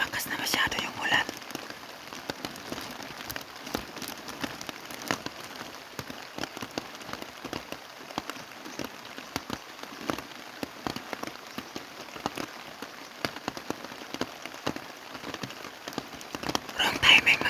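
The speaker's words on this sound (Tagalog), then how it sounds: "lumakas na masyado yung ulan" Heavy rain patters steadily on a surface, a dense continuous hiss with crackly drops throughout, close and unbroken.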